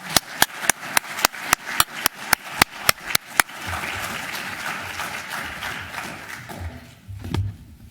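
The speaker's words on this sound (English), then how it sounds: "May I invite you to welcome our two speakers with a round of applause." Lecture audience at the University of Exeter welcoming two speakers: a run of evenly spaced sharp claps, then a fuller wash of applause that fades near the end.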